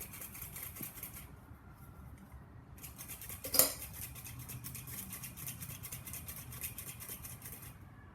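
Burnt palm ashes with pieces of aluminum are shaken through a metal sifter, making continuous light metallic rattling and scraping, with one sharper clank near the middle.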